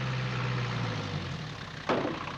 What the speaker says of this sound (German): Stell mal kurz den Motor